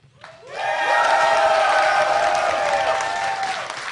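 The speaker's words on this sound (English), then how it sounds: "give a huge cheer for Liquid NonY if you would like him to win" A crowd at the Red Bull Seattle esports finals bursts into loud applause and cheering, swelling quickly and holding as a dense, sustained roar of clapping in a large hall.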